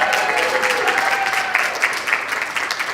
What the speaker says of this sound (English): Give Jace a round of applause